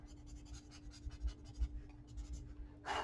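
Chalk pastel strokes on paper during a fashion illustration rendering, a loose run of soft scratchy scrapes in irregular rhythm, close and fairly quiet, ending in one louder, brighter stroke.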